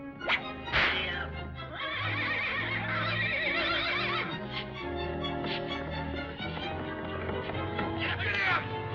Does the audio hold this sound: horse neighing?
yes